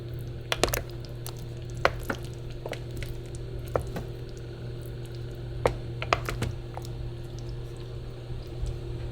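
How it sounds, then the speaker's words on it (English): A spoon stirring Italian chicken in a crockpot, soft irregular scrapes and wet clicks against the pot over a steady low kitchen hum, close and fairly quiet, with no talking. "I'm just going to take my spoon here and just kind of give it a little bit of a mix."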